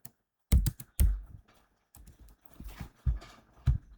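Typing on a computer keyboard while entering a filter in ServiceNow: loud, close keystrokes arrive in uneven clusters with brief pauses between them.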